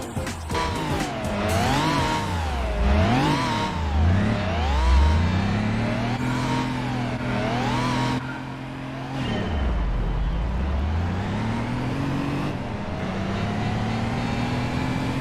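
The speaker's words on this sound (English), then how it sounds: "We're going to take the Dodge Ram rally driving, people." A Dodge Ram pickup truck driven in a rally event in Gran Turismo 4 against a Toyota Celica: a loud, close engine that revs up and down repeatedly with sweeping pitch changes and shifts, alone without voices.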